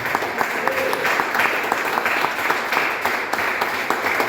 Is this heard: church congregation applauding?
yes